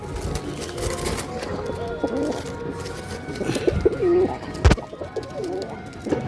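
Domestic pigeons standing together coo repeatedly in soft, rolling calls close by, the bursts overlapping at an unhurried pace, with a sharp knock partway through and low background noise.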